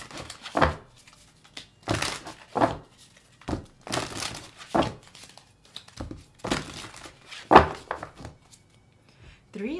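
Tarot cards are shuffled in repeated crisp, papery bursts, a bridge-style riffle every second or so, close and distinct with quiet gaps between.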